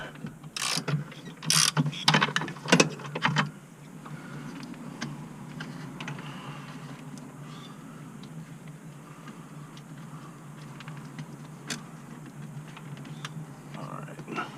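A ratchet clicks in quick bursts while tightening a ground bolt during installation of an LED sequential turn signal kit on a 1968 Ford Mustang California Special, followed by quieter faint ticking and low background hum.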